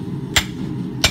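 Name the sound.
hammering to cut off excess steel for stump anvil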